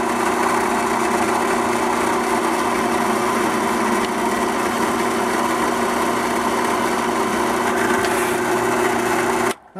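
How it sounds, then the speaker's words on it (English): A power drill bores into the center of a carved wooden eagle totem for a Native American flute, running as one steady, loud whine for nearly ten seconds and stopping abruptly at the end. "we're going to turn this guy upside down like so, and we're going to drill into the center of him."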